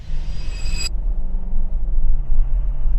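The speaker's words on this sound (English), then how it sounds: "That sounded like a diesel. It does sound a bit rattly" A Toyota Land Cruiser diesel engine idles close by with a low, rough, rattling rumble that stays steady throughout, no voices.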